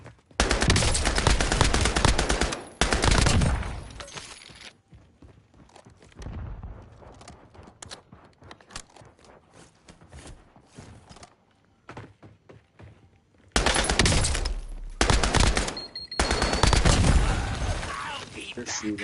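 Video game firefight with rapid bursts of automatic gunfire, loud at the start and again near the end, while a quieter stretch in between carries scattered shots and people talking over it.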